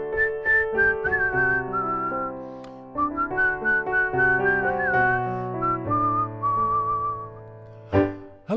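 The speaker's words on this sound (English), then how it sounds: "There's a whistle part here." A whistled melody line in a folk-pop song plays over a steady plucked and sustained instrumental backing, clear and tuneful with rising and falling phrases.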